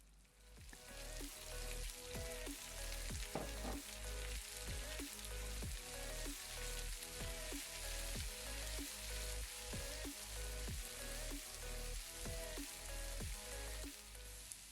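Chopped lady's finger sizzles steadily in a hot pan with salt, a dense, continuous crackle and spatter close by that holds level throughout with no pauses and no voices.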